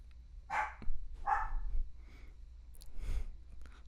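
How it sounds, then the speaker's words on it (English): A dog barks a few scattered times indoors, in short sharp bursts with pauses between them, moderately close and fairly quiet, with some breathing or clicking noises in the gaps. "And there goes a dog."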